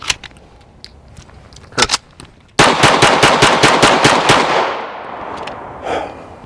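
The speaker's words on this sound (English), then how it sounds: "I'm gonna do some fast shooting right there in the dead center" A Canik TP9SF handgun fires a fast string of about a dozen loud, sharp pistol shots at close range on an outdoor range. A few scattered metallic clicks come first, and a ringing decay follows the shots.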